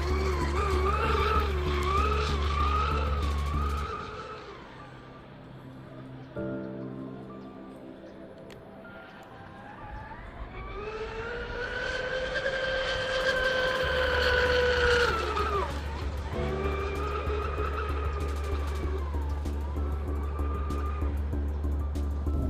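A high-pitched electric motor of an Oxidean Marine Rampage twin-hull RC catamaran boat at full throttle whines and climbs in pitch as it spins up, eases off, then screams up again, loud and close.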